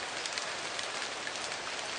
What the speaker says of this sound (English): Heavy rains forced the team to go back to base camp in order to protect camera and photo equipment.